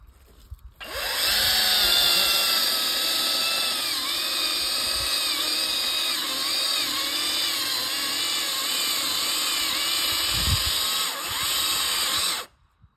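A Kress battery chainsaw cuts through a large tree during felling, its high electric motor whine starting abruptly and holding loud and steady for about twelve seconds with slight pitch dips under load before cutting off.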